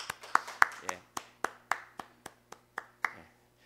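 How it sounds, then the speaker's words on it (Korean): A church congregation claps in slow, ragged unison, about a dozen sharp claps spaced roughly a third of a second apart, fairly close, with a faint low hum underneath. "박수 소리에 좀 깨셨죠?"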